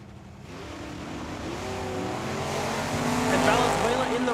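A Ford Mustang and a Chevy Camaro roar down the strip in a drag race at Tucson Dragway's Cactus Clash, engines revving and building in pitch as they pass, with a voice talking over them.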